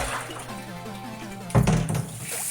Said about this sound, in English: So I'm gonna dump that water out.